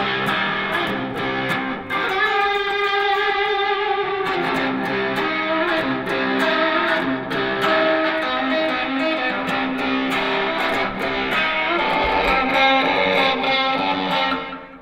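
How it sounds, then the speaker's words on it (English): Electric guitar run through a Warble Swell Echo pedal, loud and sustained, with wobbling, oscillating echoes swelling and smearing the notes into a dense, continuous wash. "With John, we knew we wanted to utilize the Warble Swell Echo's awesome oscillation capabilities while pairing it with the ambience from the Slova."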